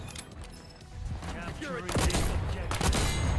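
Bursts of hand cannon gunfire ring out in a Black Ops 6 match, a rapid volley of shots that grows louder in the second half, with a player's voice talking over the game sounds.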